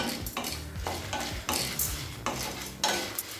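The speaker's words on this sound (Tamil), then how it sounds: "மிளகாயை ஸ்லோலே வச்சு கலர் மாறாத மாதிரி வறுத்துக்கலாங்க" Dried red chillies, Kashmiri chillies among them, are stirred and roasted slowly over low heat in a kadai for a chana dal chutney. A utensil repeatedly scrapes the pan with a faint sizzle underneath and no talking.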